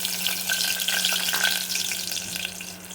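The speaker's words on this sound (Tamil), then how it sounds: "குக்கரில் கொஞ்சமாக எண்ணெய் ஊற்றி வச்சுருக்கேன். இதில் தாளிப்பு எல்லாத்தையும் போட்டுடலாம்." Spices and onion sizzle steadily in a little hot oil inside a pressure cooker while a mushroom and potato kurma is being made, with a constant low hum underneath and no talking.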